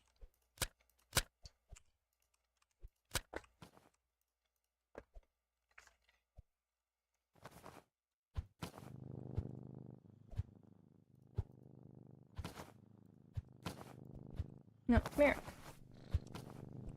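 Cats in the video game Bookshop Simulator purring softly while petted, a low continuous purr beginning partway through, after scattered sharp clicks, with a voice speaking briefly.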